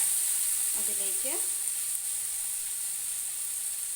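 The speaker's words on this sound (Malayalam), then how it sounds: "ഏകദേശം ഫ്രൈ ആയി വന്നിട്ടുണ്ട് മസാലയൊക്കെ" Masala for a mushroom curry sizzles in a hot pan: a steady, even frying hiss runs through the whole stretch, with a short murmur of voice briefly heard near the start.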